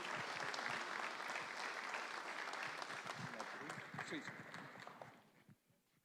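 A church congregation applauds to welcome a preacher, dense clapping that stays steady and then fades out near the end, with voices mixed in.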